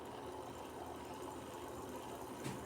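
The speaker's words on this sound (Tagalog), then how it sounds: "Ito electric fan." An electric fan with its front cover taken off runs steadily, a constant whirring hum with broadband air noise that holds level throughout, no voices.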